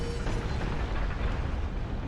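Rolling boulder trap in Dark Souls, a heavy continuous rumbling roar with gritty low-end churn, loud and steady throughout the short stretch with no voices.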